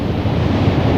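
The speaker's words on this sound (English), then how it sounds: "the water that was standing on a heap roared down again" A loud, close rush of water roars down continuously like a river released after being held back, a dense low wash with a wind-like roar, heard alone as a dramatized story sound effect.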